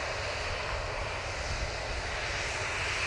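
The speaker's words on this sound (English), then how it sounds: "Ryanair coming on in front of me now" A Ryanair airliner at Manchester Airport gives a steady, loud engine roar that holds broadband and unbroken throughout, with no talk over it.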